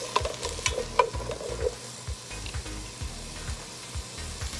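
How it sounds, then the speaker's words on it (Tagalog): Carrots and potatoes pan-frying to brown for Kapampangan pork menudo, a low steady sizzle with scattered stirring scrapes and utensil clinks near the start, fairly faint and close. "papan-fry ko lang po ng konti itong ating carrots at saka patatas para po mag-brown lang siya ng konti"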